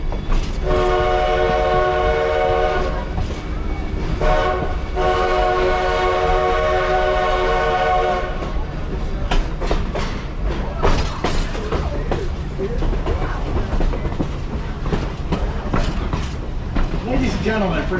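The Black Hills Central 1880 steam train runs on rails from Hill City toward Keystone, South Dakota, with a steady rumble and clatter from the cars. Several long whistle blasts sound over it, and voices can be heard in places.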